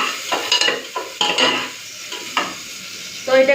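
Crushed garlic and onion frying in oil for a chicken stew, bursts of sizzling alongside repeated metal spatula scraping and stirring against the pot, close and fairly loud.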